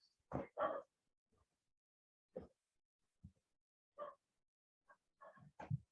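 A dog barks from a house nearby in a few separate bursts, fairly faint and distant, with quiet gaps between them and no talk.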